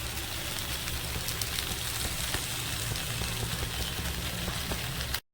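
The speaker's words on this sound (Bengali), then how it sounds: "সবজিগুলোকে মেন হলে সবজিটা ভালো করে ভেজে নেওয়া" Vegetables for shukto, a Bengali mixed-vegetable dish, fry in hot oil in a pan, giving a steady, dense sizzle that holds evenly throughout before cutting off abruptly at the end, with no voices.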